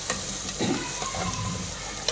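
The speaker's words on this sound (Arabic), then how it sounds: "احمر التومه بتاعتي مع البصل يعني دقيقه بالظبط كده" Garlic and onion frying in a pan, a steady close sizzle with scraping stir sounds and no voices.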